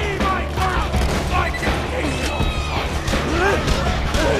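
Dense gunfire and grenade blasts from a Borderlands 2 firefight crowd together in a continuous loud barrage, with voices talking over the chaos.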